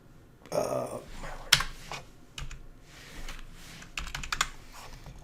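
Keys clack on a computer keyboard as a zip code is typed, with short irregular bursts of tapping and a few louder strokes, close and fairly quiet with no talking.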